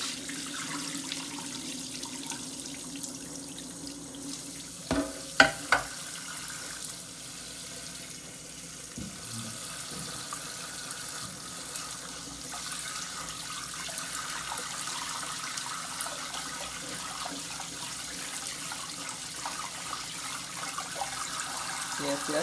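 Hot tap water runs steadily into a bowl as rice is rinsed in a kitchen sink, a faint continuous stream with a few brief clinks and splashes, and a voice speaking at times.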